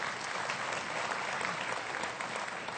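Dense, steady applause from a large audience at a 2007 freethought convention talk, filling the whole moment with continuous clapping and no speech over it.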